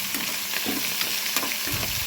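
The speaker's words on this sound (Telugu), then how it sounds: "ఉల్లిపాయ పచ్చిమిరపకాయ వేసేసా కరివేపాకు కూడా వేసి వేయించేస్తున్నా" Onion, green chilli and curry leaves fry in a pan of tempering seeds, giving a steady close sizzle broken by a few stirring scrapes and crackles, with no voices.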